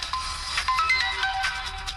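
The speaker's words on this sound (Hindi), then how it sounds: "कालिया का फोन आ रहा है।" A mobile phone ringtone for an incoming call plays as a bright, continuous electronic melody of rising and falling tones, fairly loud and unaccompanied by speech.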